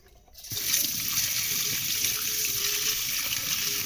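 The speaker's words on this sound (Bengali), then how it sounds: "এখন একটা স্ট্রবেরি ধুয়ে দেবো" A kitchen tap is turned on to wash strawberries, water gushing in a steady, close splashing stream into the sink after a brief quiet start.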